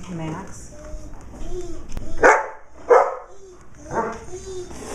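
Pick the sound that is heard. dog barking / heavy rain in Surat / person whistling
dog barking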